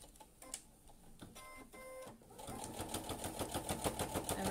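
A sewing machine stitches around the edge of a zero-waste reusable kitchen sponge, starting with a few hesitant clicks and short runs, then settling into a steady, rapid mechanical chatter close by.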